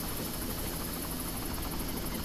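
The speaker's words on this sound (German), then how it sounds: "Und da ist der dumme Heli." A helicopter in the video game Far Cry thrums steadily and loudly throughout, a continuous dense rotor whir with no pauses.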